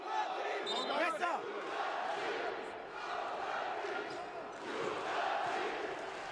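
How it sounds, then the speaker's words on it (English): Crowd in a basketball arena at a FIBA World Cup 2019 game between Bulgaria and Bosnia and Herzegovina, roaring and chanting in a steady, loud, distant wash of cheering with swells of excitement. "As you can hear, the crowd are really starting to get into this one"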